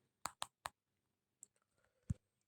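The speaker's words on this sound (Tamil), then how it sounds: "ஆனிவர்சரின்னு டைப் பண்ணிக்கலாம்." A few quiet, isolated keystrokes on a computer keyboard while editing text on a computer: three quick clicks, a pause, then scattered faint taps and one firmer press, close in an otherwise silent room.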